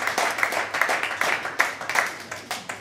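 Crowd applause at an equestrian show jumping event, a steady wash of many hands clapping with irregular louder bursts, fairly close and continuous without talk.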